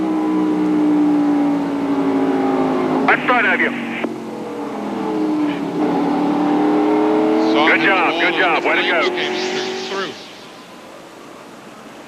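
Onboard NASCAR stock car at Dover in 1996, engine roaring loudly and steadily with gear shifts and pitch sweeps, under radio chatter and commentary.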